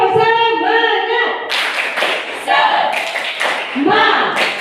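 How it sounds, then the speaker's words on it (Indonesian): A group claps the rhythmic Indonesian 'tepuk semangat' pattern in a classroom-style session, sharp clustered claps in a patterned beat that follows a voice calling out and mixes with chanting. "Tepuk semangat."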